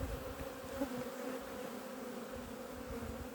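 Honeybees at an apiary hive in May, a steady loud swarm buzz filling the whole stretch without pause, close by and continuous with no talking.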